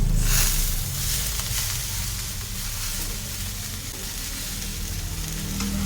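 Drumstick flowers fry with soft potato and onion in a pan, a continuous loud hissing sizzle close by with gentle stirring movement throughout and no speech.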